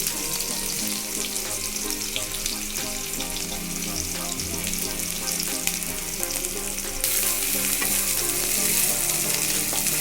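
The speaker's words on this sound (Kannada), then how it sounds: "ಎಣ್ಣೆ ಸ್ವಲ್ಪ ಚೆನ್ನಾಗಿ ಕಾದಾದಮೇಲೆ ಹೆಚ್ಚಿರೋ ಈರುಳ್ಳಿ ಹಾಕ್ತಾ ಇದ್ದೀನಿ" Chopped onions sizzle steadily in hot oil in a pan, a dense continuous crackle that grows slightly brighter and louder toward the end, with no voices.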